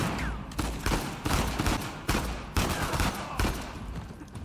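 Gunfire in the action video game Uncharted 4, a run of sharp shots cracking out in quick bursts at irregular intervals, moderately loud and without talk.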